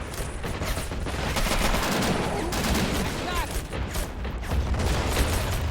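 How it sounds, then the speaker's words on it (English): Japanese artillery or mortar fire in the Men of War: Assault Squad video game's 1945 Iwo Jima battle, a dense, continuous barrage of loud gunfire and blasts with brief rattling bursts throughout. "Japanese artillery firing. Possibly a mortar."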